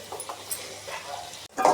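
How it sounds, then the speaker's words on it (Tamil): Vegetables including broad beans are stirred in a cooking pan with soft, irregular scraping and light sizzling, then a louder clatter near the end. "எல்லாத்தையும் ஒரு தாட்டி நல்லா கலந்து விடுங்க."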